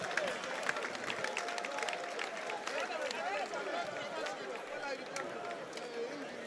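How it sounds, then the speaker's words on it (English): Crowd at a live boxing fight night applauding the two boxers after a technical knockout in round 7, a dense, continuous patter of clapping mixed with cheering and crowd babble throughout. "we have to do a big round of applause for the 2 boxers"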